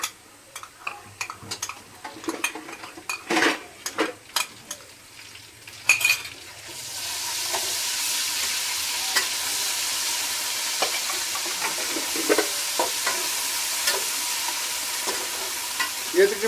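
Garlic and ginger frying with half-browned onions in a pan, starting with clinks of a spoon stirring and scraping, then a steady loud sizzle that holds with occasional stirring knocks.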